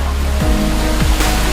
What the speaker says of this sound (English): With hundreds of waterfalls flowing down the cliffs.